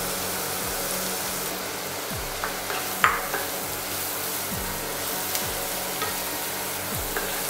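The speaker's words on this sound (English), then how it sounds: "Now we're going to add in our mushrooms." Mushrooms sautéing in a pan give a steady close sizzle, and a spoon or spatula scrapes and knocks against the pan in a regular rhythm, with one sharper clink partway through.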